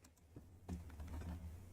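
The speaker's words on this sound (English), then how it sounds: "If you hear me like a shuffling noise, that's my mouse on my desk. I do not have a mouse pad." A computer mouse shuffles and scrapes directly on a bare desk with no mouse pad, quiet and close, with a few soft ticking knocks.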